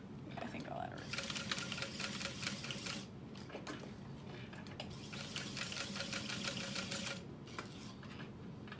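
A home sewing machine stitches a box stitch through bonded polyester in bursts of rapid mechanical whirring, stopping and starting, with close quiet handling noise between runs.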